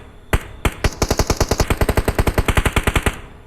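Rapid automatic gunfire from a shooting video game, a long steady burst of about twenty evenly spaced loud shots after two or three single opening shots.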